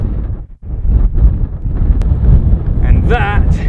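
Strong wind roars and buffets across an exposed hilltop on a cold day, a continuous low rushing gust that dips briefly near the start, with a short voice-like sound toward the end.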